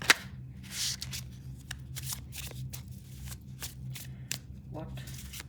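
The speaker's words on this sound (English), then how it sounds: "And we'll pick up some tarot cards also" Tarot cards picked up and shuffled close by, a run of crisp riffling and flicking bursts with soft pauses between them, over a low steady room hum.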